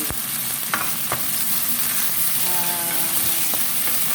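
Sweet potato leaves stir-fried in a pan, giving a steady close sizzle broken by a few sharp scraping and stirring knocks, with no talk.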